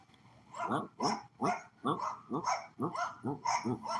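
A neighbour's dog barking in a rapid series of about a dozen sharp, fairly close barks in an uneven rhythm, heard without talk.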